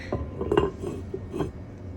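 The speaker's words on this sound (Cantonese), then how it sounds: "跟住呢，冚返個蓋又煲啦" A lid is set back onto a cooking pot of Buddha Jumps Over the Wall soup, giving a few close metallic clinks and rattles in quick succession.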